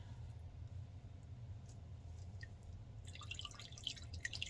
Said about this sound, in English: I just fold it over and I squeeze the water out.